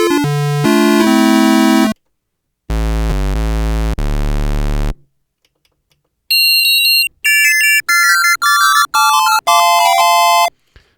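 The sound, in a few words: Arturia PolyBrute synthesizer oscillator 1 square wave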